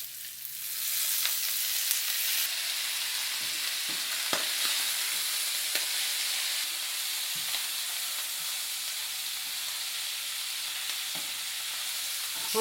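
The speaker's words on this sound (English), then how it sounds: "you brown up the onion, then after that you put the squid in it" Squid and onion stir-fry in a hot pan with garlic, a steady loud sizzle with occasional clinks and scrapes of stirring, continuous without talk.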